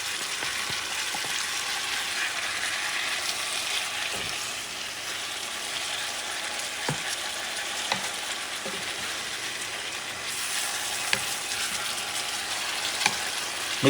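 Beef for mechado cooks in a pan with a continuous loud sizzle, while a utensil stirs it and taps the pan now and then.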